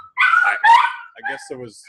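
A pet dog barks a few sharp, close yips over and around ongoing conversation indoors, short bursts mixed with people talking.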